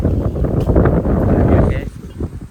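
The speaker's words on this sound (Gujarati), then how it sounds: "પવન એવું આવે ને ખતરનાક એમ આવે ભાઈ" Strong wind gusts buffeting an outdoor microphone during neem tree cutting, a loud continuous broadband roar that swells and eases, with a voice briefly audible near the end.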